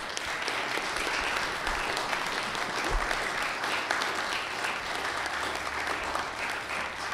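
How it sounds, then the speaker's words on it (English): A conference audience at the close of a Polanyi Institute mini-conference session in 2017 gives its speakers a sustained round of clapping, even and moderately distant throughout. "I'd like to invite a round of applause for our speakers."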